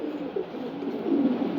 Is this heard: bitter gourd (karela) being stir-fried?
no